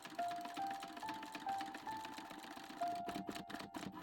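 An industrial sewing machine stitching a leather strap loop onto a bracelet, with a rapid mechanical whir broken into short runs of stitching, close and fairly quiet.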